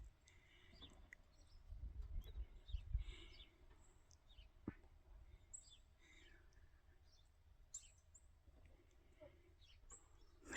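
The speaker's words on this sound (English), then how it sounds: "Hear those birds chirping?" Birds chirping outdoors on a chicken farm in late winter, scattered faint high chirps and tweets spread over the stretch, with low rumbling handling noise near the start.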